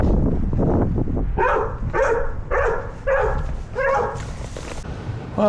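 Dogs barking in a run of about five close, loud barks spaced roughly half a second apart, over rumbling background noise.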